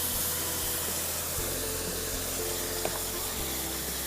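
Liquid is poured into hot roasted semolina for halwa, setting off a loud, continuous sizzling hiss that holds steady for several seconds, with faint low hum beneath.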